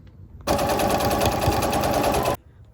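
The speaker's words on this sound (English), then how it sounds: "Both sides pinned, now just to sew all around the edges." A sewing machine runs steadily, stitching around the edges of a shirt made from a lace tablecloth, in one loud continuous burst of rapid mechanical chatter lasting nearly two seconds before stopping abruptly.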